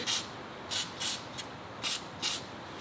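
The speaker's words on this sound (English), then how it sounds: "right now I'm just going to use WD-40 on all of the bolts because they do look pretty rusted" WD-40 penetrating oil sprayed in short bursts onto rusted bolts on a Miata during a clutch hydraulic job, about six quick close hissing puffs spaced irregularly over a faint background.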